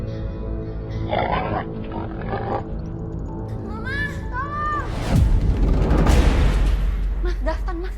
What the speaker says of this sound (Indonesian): Kok aku terus-terusan ya dengar suara babi?